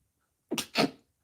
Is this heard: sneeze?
yes